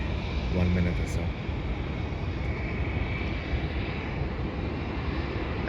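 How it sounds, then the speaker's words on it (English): An Air New Zealand Boeing 777 wide-body jet arriving from Auckland to land, its engine roar a steady, loud broadband rumble outdoors near a car park that fills the whole stretch. "there is going to be a plane, an Air New Zealand plane from Auckland, Boeing 777, one of the larger wide body planes"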